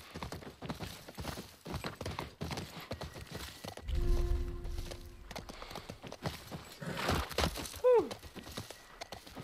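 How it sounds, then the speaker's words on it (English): Rhythmic clip-clop of horse hooves at a brisk pace in the video game The Last of Us Part I, with a brief rumble midway and a short high whinny near the end. "And the little poor horse, he's gonna go gone."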